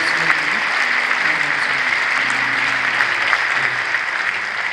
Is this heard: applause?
yes